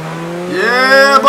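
A race car engine from the video game Forza Motorsport 5 sounds out loud and up front, holding a steady tone and then climbing quickly in pitch as it revs up through a short burst.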